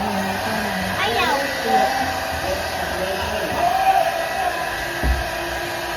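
A hair dryer blows steadily on a child's hair at home, a close, constant whooshing hum with children's voices chattering over it.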